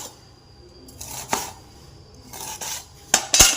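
A knife slices lemons for lemon pickle, making a few crisp cutting taps and scraping clinks close by in an otherwise quiet kitchen, with sharper strikes near the end.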